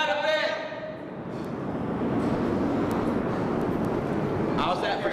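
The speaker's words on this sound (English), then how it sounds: "Those airplanes bother you?" An airplane flies overhead, a steady broad roar that swells and holds throughout, with a person speaking briefly at the start and end.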